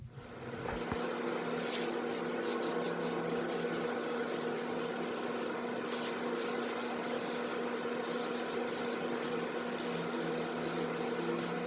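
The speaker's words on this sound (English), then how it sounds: "Now we gotta sand it down with some 800 grit wet sandpaper." Steady, close abrasive rubbing from 800-grit wet sandpaper on primer over an F150 dash panel, with a continuous hiss and quick repeated stroke pulses throughout.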